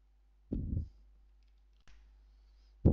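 A single mouse click on an on-screen button in a cloud service demo, a short burst near the start followed by two fainter clicks, close and quiet with no talk.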